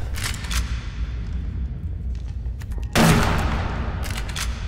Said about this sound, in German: Schieß nochmal mit der Doppelläufigen